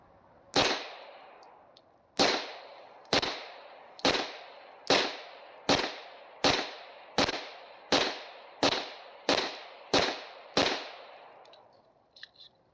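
Twelve gunshots from a Taurus TH40 pistol ring out at a steady, unhurried pace, each a sharp loud crack with a short echoing tail, fired outdoors at a target from about 11 yards.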